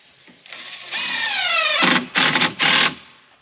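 A power drill or driver running screws into wooden truss boards on a chicken coop build: one long whining run with rising pitch, then two short loud bursts, close up and alone.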